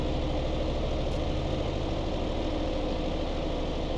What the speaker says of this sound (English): This is a very loud boat.